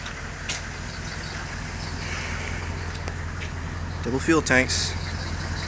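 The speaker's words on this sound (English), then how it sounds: "My GMC pulling Mike's GMC." An 1986 GMC truck with a 6.2 engine tows an 1982 GMC truck with a 6.2, a steady low engine drone running under a brief stretch of talk near the end.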